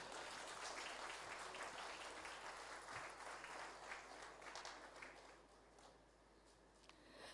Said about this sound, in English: I request all of you to do participate with a round of applause from your end